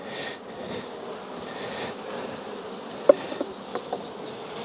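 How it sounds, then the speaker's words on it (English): A small honeybee colony buzzes in a hive, a steady close hum of many bees with a few louder individual bee passes near the end, no talk. "This little colony of bees"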